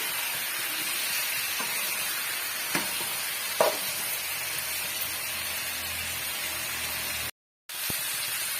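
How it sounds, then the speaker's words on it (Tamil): Brinjal is sautéed in masala for a Chettinad oil brinjal curry, a constant close sizzle with occasional spatula taps, briefly cutting out near the end before resuming, with no talking. "இப்போ நல்லா வந்து வதக்கி விட்டுடலாம் ஒரு அஞ்சு நிமிஷத்துக்கு இதுலேயே வந்து நல்லா வதங்கி வரட்டும்"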